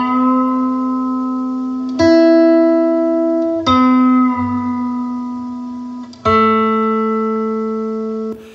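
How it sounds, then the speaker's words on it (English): Electric guitar lick played on the second and third strings, a few sustained plucked phrases with a string bend, three distinct note attacks ringing out clearly with no talking. "This lick is played on the 2nd and 3rd string with this cool bend trick to finish it off."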